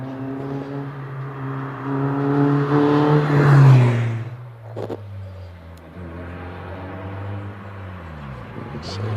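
A Mazda MX-5 race car at the Prescott hillclimb accelerates hard off the line. Its engine note climbs loudly, then settles into a steady, slightly receding drone while a commentator talks over it.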